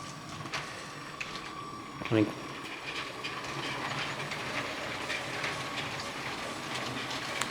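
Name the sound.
Lego City toy train running on its track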